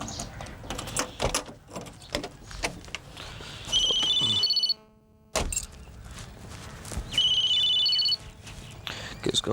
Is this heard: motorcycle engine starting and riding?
no